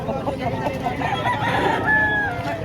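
A rooster crows at moderate distance amid a noisy background of murmuring voices and farmyard clucking at a chicken market in Padre Garcia, Batangas.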